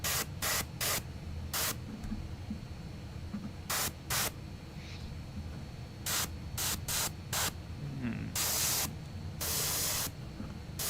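Short bursts of spray paint hiss on and off in an irregular rhythm, some brief, some longer, over a low background hum.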